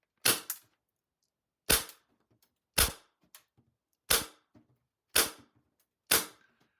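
A Tokyo Marui MTW9 airsoft gun fires single shots through a chronograph, six sharp snapping cracks spaced a second or so apart, close and loud against near silence.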